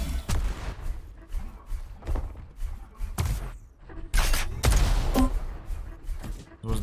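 Rocket and gunfire blasts from a Doom deathmatch in a league game, a dense run of sharp booms and thuds, some loud and close, with heavier explosions toward the end.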